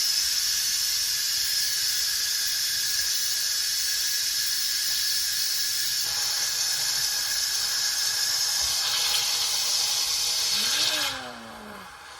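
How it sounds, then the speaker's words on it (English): Loud, steady hiss of steam rushing from a pressure cooker valve after cooking pot roast, holding constant, then cutting off abruptly near the end with a brief squeal. "you can come over here and release the pressure"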